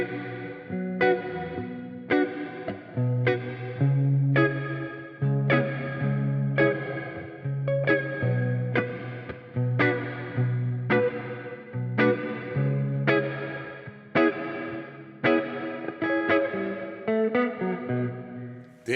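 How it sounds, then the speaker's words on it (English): Meris Mercury 7 reverb pedal with its pre-delay engaged, a rhythmic plucked instrumental phrase repeating steadily for nearly twenty seconds with a wide washed-out tail and chorus-like shimmer, loud and alone with no voices. "There you can kind of hear the pre-delay."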